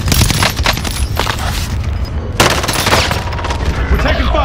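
Rapid game gunfire in a shooter video game rattles loud and close in sustained bursts, with sharp blasts and someone talking over the action.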